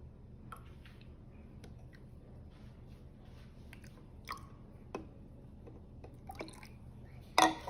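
Liquid chemicals are poured into a container, producing faint intermittent drips and splashes over quiet background hiss, ending in a louder sloshing burst.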